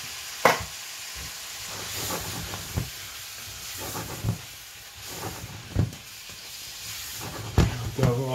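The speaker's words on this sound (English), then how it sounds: "There we go, all that steam." A pot of chili with a 400-gram tin of red kidney beans just added hisses and steams steadily, with occasional soft knocks and clatters of the pot and spoon close by.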